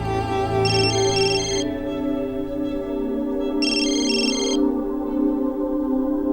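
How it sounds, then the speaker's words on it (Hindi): A phone ringtone chimes twice in short bursts over a steady background hum. "वो रोहित का फोन है, मेरा कॉलेज फ्रेंड"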